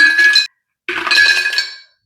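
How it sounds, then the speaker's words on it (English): Ice balls dropped into a glass pitcher of strawberry lemonade, two bright bursts of clinking and rattling against the glass separated by a short pause, close and clear. "For this one, I'm going to add my ice balls."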